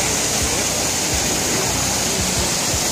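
Steady broadband rush of falling water at the Trevi Fountain in Rome's piazza, a dense continuous splash close by, with low thuds and crowd murmur faintly underneath.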